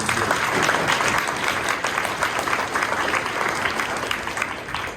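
Applause at a school board of education meeting honoring staff, teachers, parents and student athletes: a steady roomful of clapping hands holding at an even level for about five seconds, easing slightly at the end.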